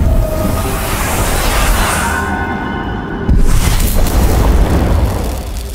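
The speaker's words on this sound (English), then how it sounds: "Another of your powers is the Spirit Blast." Spirit Blast power being used in the video game The Medium, a loud, sustained rumbling boom with a whooshing burst that swells partway through and carries on, with no voices over it.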